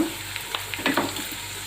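Small onions and a pinch of asafoetida sizzle quietly in a pan while being stirred for a flat bean curry, a soft steady frying hiss broken by a few brief scraping stirs.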